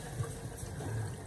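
Mineral water pouring steadily into a cooking pot while making chicken sinigang, a continuous soft splashing wash, faint and unbroken for the short moment.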